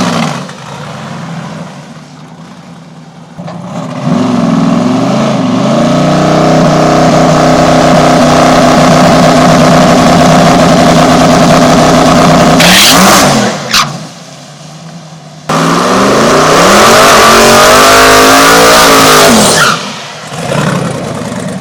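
A drag race car's engine roars loud and close as it revs and accelerates down the track, in long sustained pulls separated by brief drops and a short pause.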